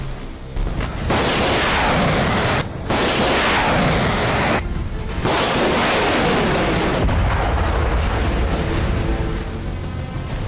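Artillery fire and explosions from North Korean military footage, dense rolling booms and blasts filling the whole stretch at high loudness, with a few brief drops between volleys.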